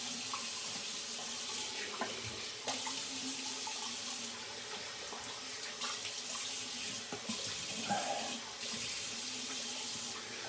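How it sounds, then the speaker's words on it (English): During a shave, a bathroom tap runs steadily into the sink for rinsing, a continuous hissing rush of water with small splashes and clinks, close by and without any talking. "I decided to start pausing when rinsing"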